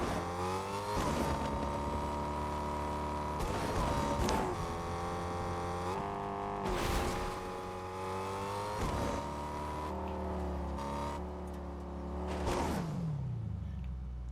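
A car engine in Fortnite runs steadily with rising and falling revs and several gear-like shifts, loud and close, with brief whooshes and impacts mixed in, no talk.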